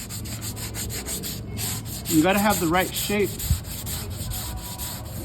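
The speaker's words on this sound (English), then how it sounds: "this is like the last sanding that we're doing" Steady scratchy hand sanding strokes on a 1964 Chevrolet Impala quarter panel, rhythmic and close, with someone speaking briefly partway through.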